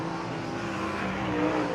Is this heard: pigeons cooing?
no